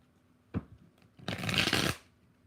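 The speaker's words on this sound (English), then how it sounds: "Four shuffles." Tarot cards being shuffled during a live reading: a brief riffle snap followed by a louder, sustained shuffling burst of about a second, close up with no talking.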